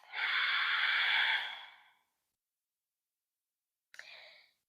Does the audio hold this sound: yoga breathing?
yes